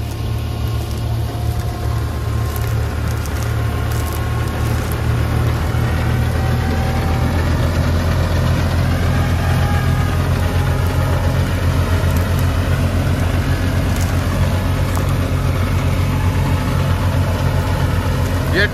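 A tractor engine runs steadily while pulling a straw reaper and trolley in a field, its heavy low droning continuous and close throughout.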